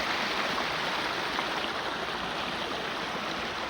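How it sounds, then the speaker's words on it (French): A small mountain stream flows steadily, a dense, continuous rushing and babbling of water heard close up and fairly loud throughout, with no voices. "je vais escalader ce petit ruisseau, qui m'a l'air bien beau"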